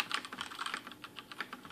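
A Rosewill RGB80 tenkeyless mechanical keyboard with brown tactile switches, typed on without bottoming out. Close, fairly loud rapid clacking keystrokes come in uneven bursts, heard alone.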